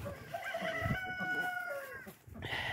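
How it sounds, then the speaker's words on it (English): Chickens cluck and call in a farmyard alongside ducks and pigs, a close, drawn-out crowing cry rising over soft background clucks, with no talk. "And chickens fly a little bit"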